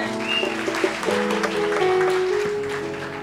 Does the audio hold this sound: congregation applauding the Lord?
yes